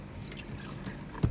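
Sliced potatoes are rinsed in a bowl of water to wash off their starch, giving a faint sloshing followed by a single small splash near the end.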